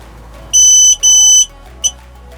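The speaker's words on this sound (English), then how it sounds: "Beeping." Loud, shrill electronic beeps sound up close from an electric scooter (Razor E300 fitted with Xiaomi M365 parts) on power-up: two long tones in quick succession, then a short chirp, with near silence between.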